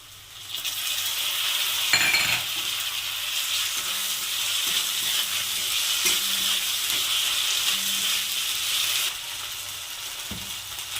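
Ginger, garlic and cumin paste hitting browned onions in hot oil, a loud spreading sizzle with repeated scraping stirs and clinks of the spatula, easing off slightly near the end.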